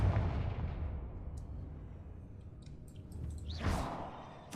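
Confringo blasting spell in the Hogwarts Legacy video game, a deep booming explosion that rumbles and fades, followed by a second sharp burst with a rising whoosh near the end.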